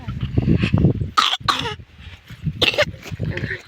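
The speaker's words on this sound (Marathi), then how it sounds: "खोकला येतोय." A person coughs and clears their throat in a few sharp bursts amid ongoing talk nearby.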